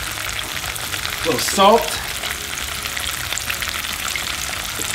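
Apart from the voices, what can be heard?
potatoes frying in oil for ceviche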